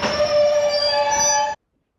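Steam train on the Gloucestershire Warwickshire heritage railway in the Cotswolds, a sustained tonal squeal or whistle over rumbling running noise that stops sharply after a second and a half.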